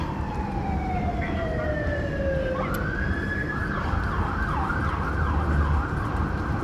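A wailing siren sweeps up and down in pitch, rising then cycling steadily, heard from a middle distance over a constant rumble of traffic.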